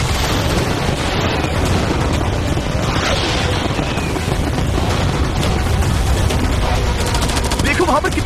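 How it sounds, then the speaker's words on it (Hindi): Cannons, fireworks, arrows and catapults fired all at once in a mock yacht battle, making a loud, continuous barrage of dense overlapping bangs and booms that never lets up. "मैं चाहता हूँ कि तुम कैनन्स, फायरवर्क्स, एरोज, कैटapults सब कुछ एक साथ फायर करो।"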